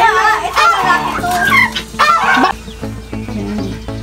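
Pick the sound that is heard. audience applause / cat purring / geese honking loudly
geese honking loudly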